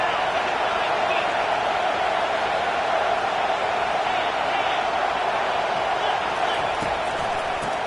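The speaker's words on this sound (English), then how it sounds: "Third down, and this crowd is tearing the lid off this place." Football stadium crowd on third down, a dense, sustained roar of cheering fans that holds loud and steady throughout, with an announcer's voice partly mixed in.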